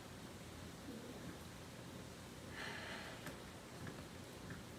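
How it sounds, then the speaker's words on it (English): Heavy pouring rain falls outside at the end of August, a steady broadband hiss that fills the whole stretch with no talk over it. "it's pouring rain outside. It just started raining"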